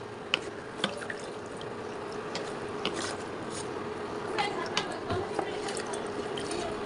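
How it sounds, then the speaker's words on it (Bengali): A small amount of water is added to beef curry cooking in a pot, giving scattered drips and splashing pours with a few sharper clicks over a steady kitchen background. "এখন আমি ঝোলের পানি দিয়ে দিব"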